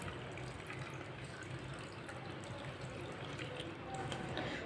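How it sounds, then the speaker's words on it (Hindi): Water is poured into a mango juice mixture with sugar and salt, a steady, soft splashing trickle that runs evenly for several seconds without a break. "थोड़ा सा पानी डाल लेंगे साथ।"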